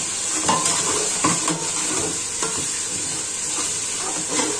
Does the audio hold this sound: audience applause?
no